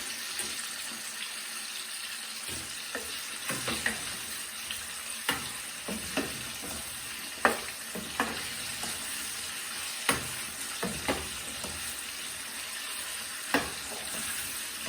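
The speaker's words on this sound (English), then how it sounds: "just carry on cooking and stirring the sauce" Sweet and sour sauce for Chinese-takeaway-style chicken cooking on the stove, with a steady bubbling hiss and scattered light spoon taps and scrapes every second or two, close and even, with no one speaking.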